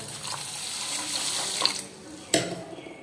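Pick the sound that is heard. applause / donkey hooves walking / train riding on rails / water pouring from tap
water pouring from tap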